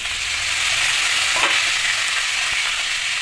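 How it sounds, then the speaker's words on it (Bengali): Salted potatoes sizzle steadily in hot oil, a dense crackling hiss with a faint scrape of stirring now and then. "এখন দেখা যাক আলুটা কতটা ভাজা হয়েছে"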